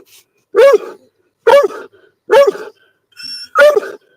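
A dog barks four times in a steady rhythm, each bark loud, close and clear with short silent gaps between, and a faint electronic tone sounds briefly near the end.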